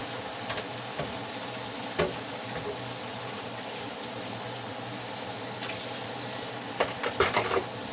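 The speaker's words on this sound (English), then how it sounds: "So let's pour our white potatoes in slowly." White potatoes poured slowly into hot oil, with a steady sizzling hiss and crackle throughout and a few sharper spatters and bursts near the end.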